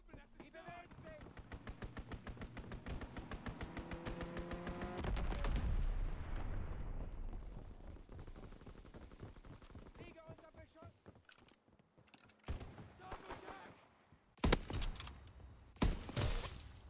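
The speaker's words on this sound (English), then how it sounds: "Strafing run inbound." Aircraft strafing run in Call of Duty WWII, a rapid burst of dense machine-gun fire and engine roar building to a loud blast, then scattered sharp gunshots and impacts trailing off, with a game announcer voice over the action.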